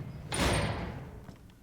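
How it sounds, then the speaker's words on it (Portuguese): A heavy bunker door in the video game DayZ closes with one loud, rushing slam that swells and then fades, followed by a couple of faint knocks, with no voices. "As portas estão fechando na minha cara"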